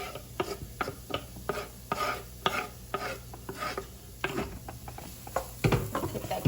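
Garlic cooks in olive oil in a pan, a soft sizzle under a run of close scraping and stirring strokes from a utensil moving across the pan, steady and moderately loud, with no talking.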